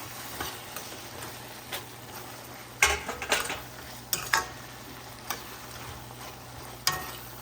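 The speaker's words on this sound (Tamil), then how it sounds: "பீர்க்கங்காய் வதங்கிட்டு இருக்கு." Chopped ridge gourd sautés in a pan, giving a steady low sizzle with occasional sharp clinks and scrapes of a spoon against the metal.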